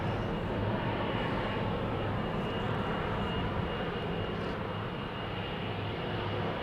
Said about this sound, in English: This is KLM Flight 689 to Cancun in Mexico. It's the PHBQO, 18 years old, first flight January 2007